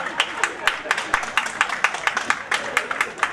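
Audience clapping at a Punjabi duets music night, with rhythmic, fairly even applause from a crowd and sharp bursts recurring through the stretch, no voices on top.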